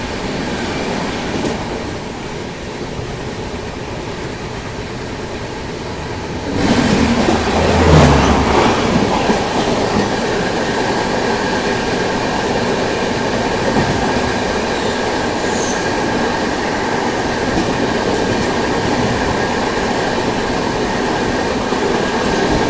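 Bihar Sampark Kranti Express crossing the Tejas Express, heard from on board as a continuous loud rail roar that swells abruptly when the passing train rushes alongside, with wheel clatter and brief squeals.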